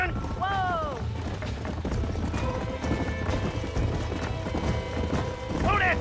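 Horses gallop in a Western video game, with rapid hoofbeats pounding under shouting riders, and a horse whinnies near the start and again at the end.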